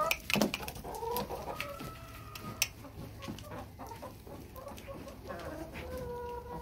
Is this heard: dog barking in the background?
no